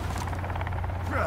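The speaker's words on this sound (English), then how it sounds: "Helicopter. You hear that?" A helicopter passes overhead in the survival game Sons of the Forest, a rapid rhythmic rotor chop pulsing steadily throughout the short moment.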